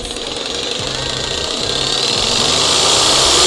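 An electric jigsaw being test-run before delivery, a steady loud buzzing motor drone with a rapid rattling blade stroke that builds slightly in intensity over a few seconds, with no talking.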